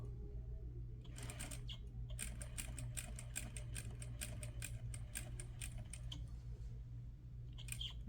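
A sewing machine stitches slowly around a set-in sleeve, its needle ticking in a steady run of even strokes close up over a low constant hum, with a brief pause near the start.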